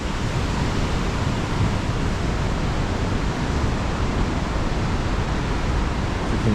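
Ocean waves pounding coastal rocks along the Australian coastline, a dense, steady, roaring wash of surf heard alone at constant loudness with no distinct breaks.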